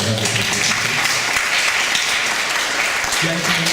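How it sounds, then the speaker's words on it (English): Audience applause at a local community question-time meeting in Barnes, a dense wash of clapping throughout, with voices murmuring beneath it near the start and end. "Let's have a round of applause, please, for those"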